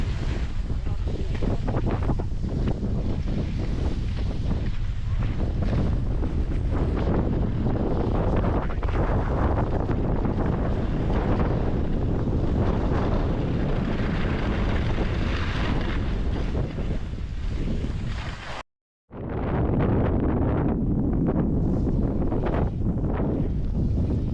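Strong wind buffets the microphone in a constant roar on a ski slope at Palandöken, rumbling and gusting for a long stretch, broken by one brief silent gap.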